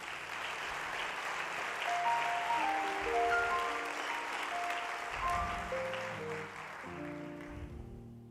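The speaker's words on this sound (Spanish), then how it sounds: "¿Cuánto le pueden dar un aplauso a Jesús, por favor?" A church congregation applauds during a Spanish-language sermon, a dense, sustained wash of clapping that holds steady for several seconds, with faint sustained musical tones running underneath before it thins toward the end.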